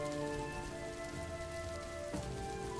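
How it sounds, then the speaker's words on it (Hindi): Heavy rain pours steadily over farm fields, a dense, even hiss of drops striking surfaces, with a faint hum and a brief knock partway through; no voices. "तभी बहुत जोर से बारिश होने लगती है।"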